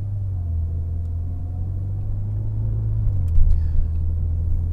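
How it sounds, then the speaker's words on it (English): Inside a car driving around town at relatively low speed, a steady low engine and road rumble drones throughout with a slight rise near the end and no talking. "what you've heard so far is just driving around town, relatively low speed"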